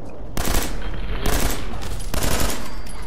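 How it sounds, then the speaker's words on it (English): A minigun in Fallout 4 is fired by an AI companion in two long, loud bursts of rapid, continuous gunfire separated by a short gap. "Never give an AI a minigun. This is what happens."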